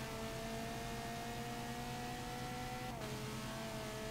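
An Audi race car's engine in a racing video game, on the Sonoma circuit, holds a steady loud high drone that drops in pitch once near the end as it shifts gear, with no talking.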